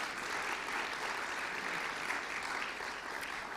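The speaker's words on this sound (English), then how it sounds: "For that, I give you a round of applause," A ceremony audience applauds, dense even clapping that holds steady throughout, moderately loud and unbroken by talk.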